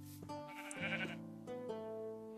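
Sheep in the Minecraft video game bleat in a few close, wavering calls, one after another, with no talking.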